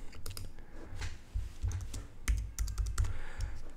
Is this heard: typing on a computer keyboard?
yes